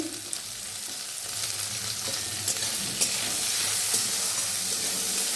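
Chopped onion and green chili fry in a pan with a loud, continuous sizzle and steamy hiss, broken by light stirring scrapes, close up and with no talking.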